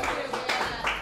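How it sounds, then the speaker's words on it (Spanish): A studio audience claps for a guest on a television show, with a brief burst of dense applause that swells in waves. "Un aplauso grande para Luismi."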